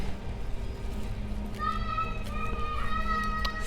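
Children playing and calling out nearby in a backyard garden, a steady bed of distant young voices, with higher shouts or squeals rising over it in the second half.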